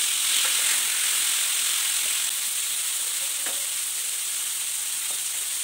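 Tomatoes fry in hot oil in a pan with a loud, steady, even sizzle and a few faint clicks of a spoon.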